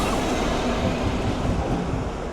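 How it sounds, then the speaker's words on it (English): A DB Schenker Class 66 freight locomotive rumbles steadily through Doncaster station, a dense, continuous low-frequency roar of engine and wagons at close range with no talk. "Pass through now is a DB Schenker 66 from Nottingham to Belmont."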